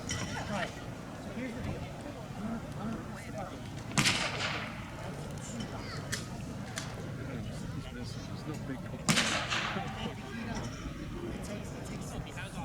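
Artillery gun firing rounds at a WW2 reenactment weekend, two heavy booms several seconds apart rising over crowd noise and a narrator speaking throughout.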